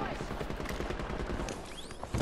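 Rapid bursts of shooter-game gunfire crackle continuously through a short, dense stretch, with a louder shot near the end and a voice talking over the action.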